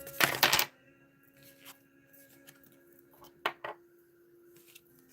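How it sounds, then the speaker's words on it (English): Tarot cards are pulled from a deck: a loud burst of riffling shuffle opens, followed by quiet pauses and a pair of crisp card snaps near the middle, close and intimate over a faint steady background tone, with no speech. "let's go ahead and grab a couple cards here"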